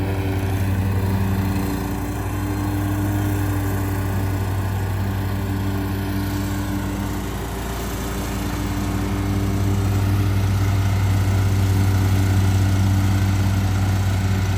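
A Hustler Hyperdrive or Bad Boy Rogue riding mower cuts grass with a steady, droning engine hum that swells and dips slightly as it passes, with no voices.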